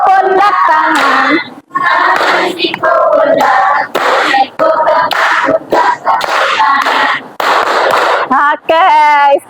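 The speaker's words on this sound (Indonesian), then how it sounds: "tepuk siku pundak tangan." Indonesian classroom ice-breaker clapping game, a class slapping elbows, shoulders and hands in time while chanting together, steady rhythmic slaps mixed under loud group voices throughout.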